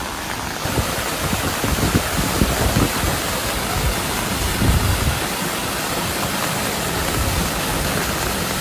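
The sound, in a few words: rainwater rushing down, eroding soil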